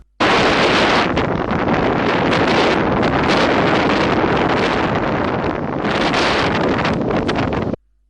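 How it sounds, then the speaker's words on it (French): Loud, strong wind roars continuously into the microphone on a mountain in Cambodia, buffeting with gusts that swell and ease before cutting off abruptly. "un vent fort, mais frais, doux et léger, balaye la montagne Cambodia"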